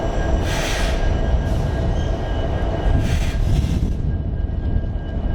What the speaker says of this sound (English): CSX is delivering an empty coal train to RJ Corman